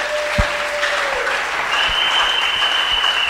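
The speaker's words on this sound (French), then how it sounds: "Est-ce que nous pouvons acclamer le Seigneur?" A church congregation applauds to acclaim the Lord during a French-language service, a steady, dense wash of clapping from many hands that fills the room for the whole moment.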